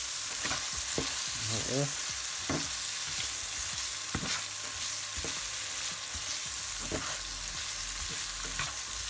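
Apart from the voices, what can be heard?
stirring white soy sauce into frying onions in a pan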